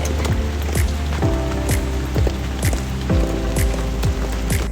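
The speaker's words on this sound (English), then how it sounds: "Just pouring rain" Heavy rain pours down in a steady hiss, with a regular series of squelchy, squeaky knocks repeating underneath.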